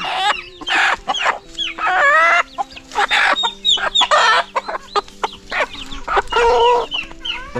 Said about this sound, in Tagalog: tingnan yung manok namin dito oh